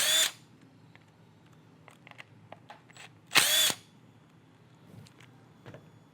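A power drill removes the two screws on the right-hand side of a Tippmann Cronus paintball marker receiver, heard as two short, loud whirring bursts with quiet handling clicks between them.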